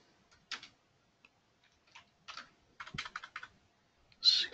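Computer keyboard keys clicking in short irregular bursts of typing, close and crisp with quiet pauses between, ending in a louder clatter.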